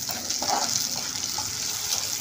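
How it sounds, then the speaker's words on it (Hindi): Steady sizzle of green chilies frying with browned onions in a pan, a constant close hiss with a few faint stirring taps and no talk. "थोड़ा सा मिर्ची और फ्राई हो जाए"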